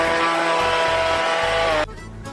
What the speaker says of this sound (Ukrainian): Збиваємо все блендером.